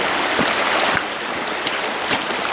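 Mountain stream rushing over big rocks, a continuous close, bright hiss of flowing water with occasional splashes and gurgles breaking through.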